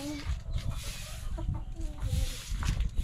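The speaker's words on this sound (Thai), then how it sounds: "ขอไล่ไก่อะ ใช่ไล่ไก่" Chickens cluck repeatedly on a farm in short, irregular bursts close by, with low rumbling noise and faint voices in the background.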